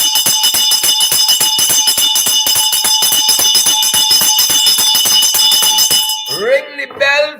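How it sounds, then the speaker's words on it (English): Bell rung rapidly and continuously, a loud ringing clang with steady fast strikes for about six seconds, then stopping as a voice speaks at the end. "Ring the bell for the soup drinkers."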